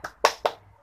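A primary school class performs a rhythmic clapping chant: three sharp, close hand claps in quick succession, then quiet.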